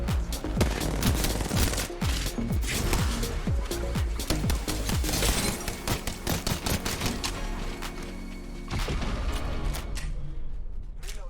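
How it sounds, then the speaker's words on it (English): Rapid automatic bursts from an R99 submachine gun in the shooter Apex Legends, dense crackling shots fired into the air over a busy game soundscape, no talk. "I waste all my ammo on the R99 shooting into the air"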